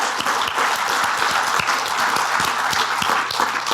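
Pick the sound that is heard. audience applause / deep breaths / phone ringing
audience applause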